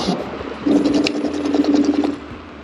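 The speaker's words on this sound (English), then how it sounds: "you're gonna hear the anti-lock braking go" The anti-lock brakes of a Kaabo Wolf King electric scooter pulse in a rapid mechanical chattering buzz, steady for a couple of seconds, close and fairly loud.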